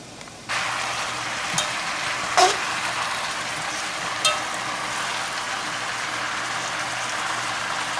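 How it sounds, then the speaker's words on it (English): A covered pot of Jamaican curry chicken legs with carrots simmers quietly, a soft, steady hiss running throughout, broken by a couple of faint clinks. "Let it simmer down."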